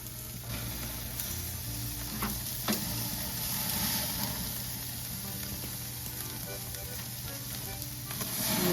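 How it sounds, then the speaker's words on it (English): Steaks sizzle steadily over a barbecue burner with a strong flame, a constant close crackling hiss with a few sharper pops and a low hum underneath, no voices. "Loosening up the steaks a little bit in the burner, getting a good flame going"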